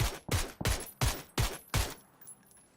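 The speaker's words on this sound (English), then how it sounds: "This guy's shooting at somebody." Six sharp gunshots from the battle royale game PUBG crack in a steady rhythm about a third of a second apart, loud and close, then give way to faint background clatter.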